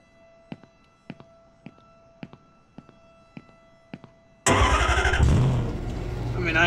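A fire engine's motor cranks and roars to life in a firefighting video game, preceded by a series of evenly spaced clicks before the loud, steady engine rumble takes over.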